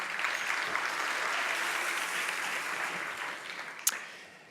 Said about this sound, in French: Thibaut Radom, on peut l'applaudir.